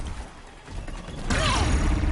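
Robotic machines from Horizon Zero Dawn stir and clank with mechanical creaks and ratcheting gear sounds, quiet at first and then louder and busier as the machines start moving.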